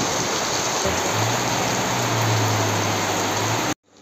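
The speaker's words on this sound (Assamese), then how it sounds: "চাওকচোন বৰষুণ দি আছে" Heavy rain pours down in a steady, dense hiss with a low hum beneath, then stops abruptly at the end.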